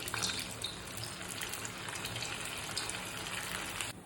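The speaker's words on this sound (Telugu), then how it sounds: "ఆయిల్ బాయిల్ అయిపోయిందండి. ఇది పొటాటో బాల్స్ మనం చేసుకున్నాం కదండి, చిన్నగా దాంట్లో వేసేసేయాలి." Potato balls lowered into boiling oil, a dense, steady sizzling hiss that stays loud and close for the whole stretch, with no talking.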